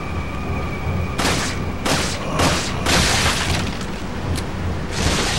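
A flash grenade goes off in Resident Evil 4 amid a string of broad, loud bursts, several sharp blasts spaced about a second apart over a steady low rumble.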